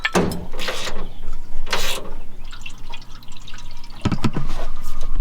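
Straight antifreeze poured into the radiator of a 1969 Dodge Charger, gurgling and splashing liquid in bursts close to the microphone, with occasional clinks and handling noises between pours.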